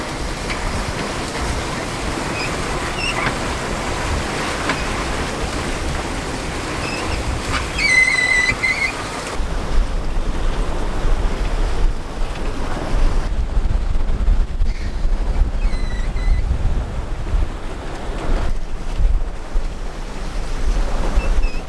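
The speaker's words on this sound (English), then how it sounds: "the swell has picked up a bit with the wind" Wind and ocean swell while sailing off Cape May, a continuous roar of gusting wind buffeting the microphone over rushing water, with faint tonal chirps mid-way and no talk.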